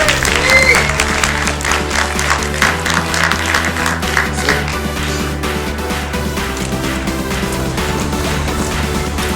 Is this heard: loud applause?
yes